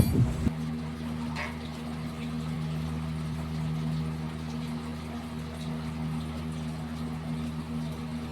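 Water streams steadily from a hose pipe into a plant pot on a rooftop, a continuous rushing fill sound with a low hum beneath it, after a brief clatter at the start.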